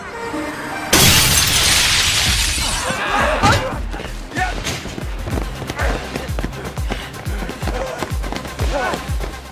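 A glass window is smashed, giving one loud sudden shattering burst followed by scattered tinkling shards and hurried thumping, with a narrating voice over the noise.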